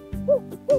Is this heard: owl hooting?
yes